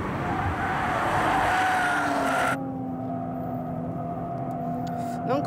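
Nissan GT-R and Porsche race cars accelerate hard on a circuit, their engines holding a sustained drone. The sound cuts sharply partway through to a thinner engine tone, with faint voices underneath.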